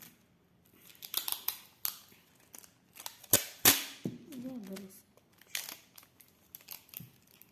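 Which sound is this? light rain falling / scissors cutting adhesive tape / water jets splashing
scissors cutting adhesive tape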